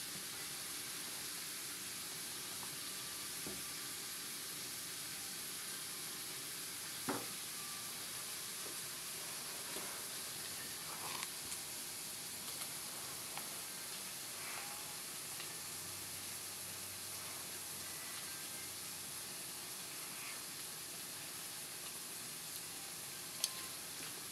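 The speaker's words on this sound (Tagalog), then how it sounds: "atin mo nang patuyo-tuyuin ng konti ang corn beef na may itlog" Corned beef with egg fries in a pan, giving a soft, steady sizzle and hiss with a few faint clicks and scrapes, quiet and continuous from start to finish.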